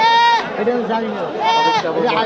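Goats at a crowded local market give two drawn-out bleats, one at the start and another about a second later, close to the listener and above a constant murmur of people talking.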